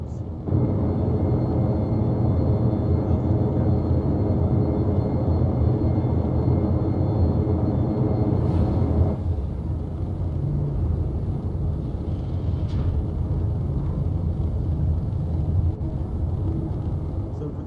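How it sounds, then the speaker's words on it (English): An aircraft makes a flyby, a loud, broad engine rumble and roar that sweeps through, then cuts to a quieter, lingering drone. "And so we have the flyby of what looks like ordnance."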